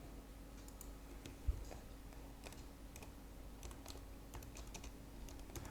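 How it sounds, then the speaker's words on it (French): Typing on a computer keyboard while entering a search into a design tool, with soft, irregular key clicks scattered over a low steady hum, fairly quiet and close, with no voices. "Là, je vais taper visage femme par exemple."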